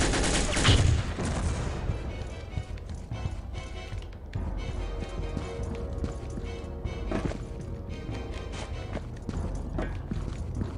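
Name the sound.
gunfire shooting at player in Soldier of Fortune 2 video game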